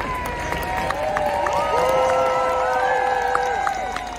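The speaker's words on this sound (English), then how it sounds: "The day kicked off with everyone cheering for a garbo" A street crowd at the Queen's funeral cheers and whoops for a passing garbage collector, a dense, loud wall of voices with rising shouts and scattered whistles throughout.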